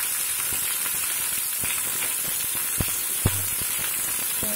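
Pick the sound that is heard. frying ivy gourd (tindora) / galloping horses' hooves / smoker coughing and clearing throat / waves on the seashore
frying ivy gourd (tindora)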